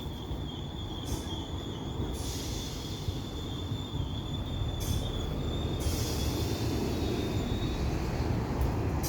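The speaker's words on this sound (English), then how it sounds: "we've got a class 320 ScotRail service to Dalmuir" A ScotRail class 320 electric train arrives at Hamilton Central station with a steady loud rumble of wheels on rails and a thin, high wheel squeal that runs through the whole approach.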